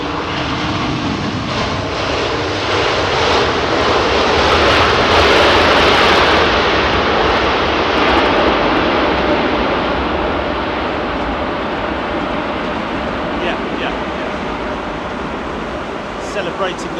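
Japan Airlines airliner in special livery arriving on runway 27R at Heathrow, a broad steady jet roar that swells slightly mid-pass and stays loud throughout, with voices talking over it.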